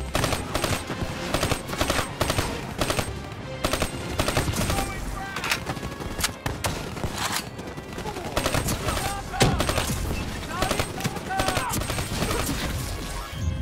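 Sustained close machine-gun fire and rapid gunshots in Call of Duty Black Ops 3 on PC, dense repeated bursts continuing throughout against battle noise, loud and steady.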